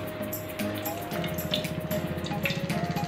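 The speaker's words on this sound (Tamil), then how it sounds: "இப்போ நம்ம எண்ணெய் ஊற்றிக்கலாம்." Cooking oil poured into a hot, dry pan for making kuska, a close, gurgling trickle with a rapid pulsing rhythm that grows steadier over a few seconds, heard alone without talk.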